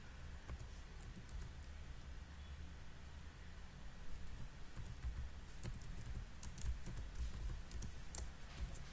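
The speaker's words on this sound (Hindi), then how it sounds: "तो इसको टाइप करेंगे हम" Keys tapped on a computer keyboard while entering a GST ledger in Tally ERP 9, a quiet, uneven patter of light clicks with a few sharper taps, heard alone over faint room hiss.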